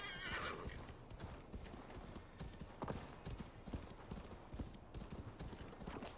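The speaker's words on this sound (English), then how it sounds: "Might as well take a horse." Horse hooves clip-clop at a steady walking rhythm in Assassin's Creed Valhalla, fairly close and continuous, with occasional louder hoof strikes, a brief neigh and faint game ambience underneath.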